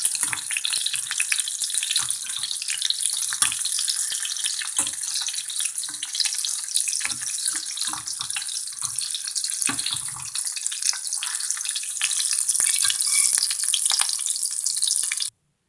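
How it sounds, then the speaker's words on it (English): Kingfish slices fry in a hot pan with a steady, loud hiss of oil and occasional soft scrapes of a utensil, close up, with no talking. "our slices of fried fish. We used kingfish."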